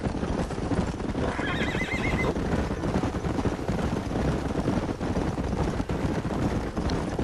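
Horses in the Red Dead Redemption video game whinny loudly around 1.5 seconds, with steady clip-clop of galloping hooves throughout over a dense rumbling game soundscape.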